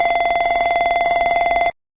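Rapid fire-warning bell from an Embraer E190 cockpit alerting system, signaling engine, APU fire or cargo smoke: a fast, steady ringing trill of metallic strikes lasting under two seconds, loud and isolated before cutting off abruptly.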